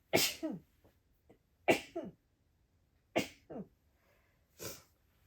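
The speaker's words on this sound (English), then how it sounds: "Excuse me, I'm going to sneeze." Four sharp sneezes in a row, spaced a second or so apart, close and fairly loud with short gasps between them.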